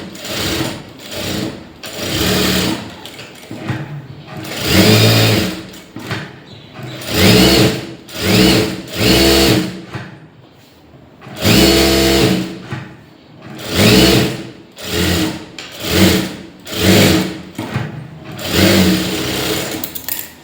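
A sewing machine stitches around the neck of a lined blouse, running loud and close in a regular series of short whirring bursts with brief stops between them and a longer pause midway.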